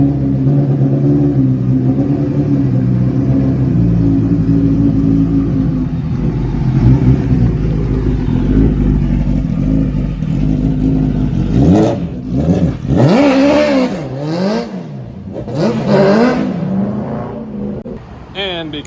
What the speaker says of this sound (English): Time to start crushing souls with this 300 horsepower supercharged motor.